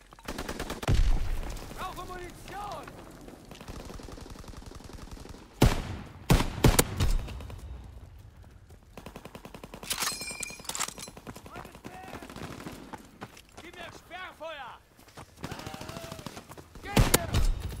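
Video-game gunfire crackles in rapid bursts and sharp single shots, some near and loud, amid hoofbeat-like clatter, with talking heard in between.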